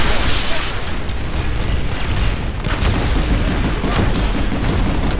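A Sunderer armored vehicle blows up in the video game Planetside 2, a loud, heavy boom with a rolling, noisy rumble of battle explosions that stays dense throughout.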